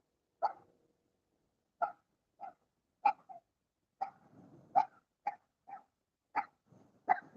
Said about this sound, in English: Somebody, little dog, is barking at me.